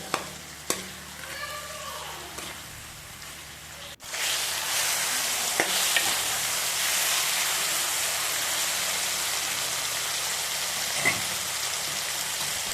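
Taro greens and pork sizzle in a pan, quiet scraping stirs at first, then a loud continuous hiss of frying that holds steady with occasional clinks of the spatula.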